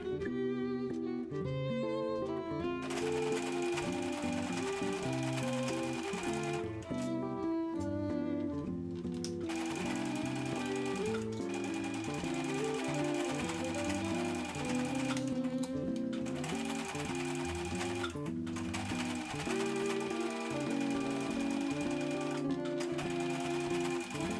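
A sewing machine runs steadily as it stitches around the edge of a fabric sleep mask made from leftover scraps, its motor whirring in long continuous runs broken by a few short pauses, close and fairly loud with no talking.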